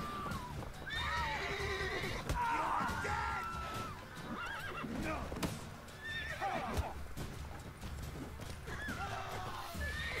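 A horse whinnies several times over steady clip-clopping hooves in The Witcher 3, with a busy game soundscape rumbling beneath.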